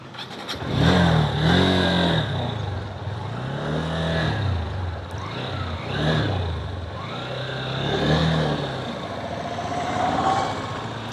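Motorcycle engine on an Arunachal mountain road at night, rising and falling through repeated revs as it pulls away, steady and fairly close throughout.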